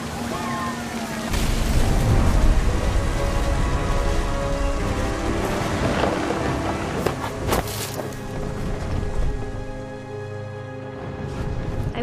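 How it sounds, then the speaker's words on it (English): Heavy rain and rumbling thunder from a stormy scene in the video game What Remains of Edith Finch, a loud, dense wash of rainfall with deep booming swells, steady throughout and easing slightly near the end. "Thunder sounded much too close and full of angry power."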